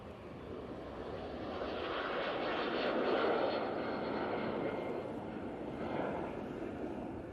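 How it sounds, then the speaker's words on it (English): A Ryanair airliner arriving at Manchester Airport gives a steady, broad engine roar at moderate distance, swelling slightly mid-way and holding without break. "There's a Ryanair coming in."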